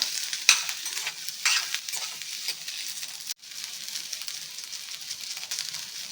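Chopped ginger and onion fry for a fish masala with a steady, crackling sizzle, while a utensil scrapes and stirs the pan in short strokes and a sharp knock lands early on.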